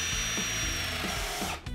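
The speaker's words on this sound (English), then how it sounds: "I'm drilling out the position of our timber dowel knobs, and to do that, I'm using a 25mm spade bit" A power drill with a 25mm spade bit bores into timber for dowel knobs, a steady loud whirring grind with rhythmic pulsing that drops off as the drilling stops.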